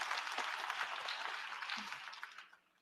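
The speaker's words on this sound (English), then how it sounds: "I believe that we have to give a round of applause." A room of people applauds during a United Nations address. The clapping is quiet and somewhat distant, a steady patter that tails off after a couple of seconds.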